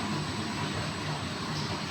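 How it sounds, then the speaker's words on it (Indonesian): An Aeros fan's electric motor runs at its lowest speed setting, a steady broadband whirring hum with low rumble, continuous and fairly loud throughout with no voices. "Kalau terkecil ini suara motor."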